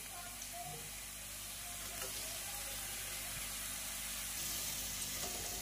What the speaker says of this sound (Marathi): आणि छानपैकी असं फ्राय करून घेऊ।